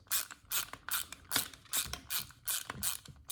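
A T20 Torx screw with reverse threads is worked loose from the recoil starter of a Honda GCV160 lawn mower engine, giving repeated close ratcheting clicks in roughly six bursts with no talking.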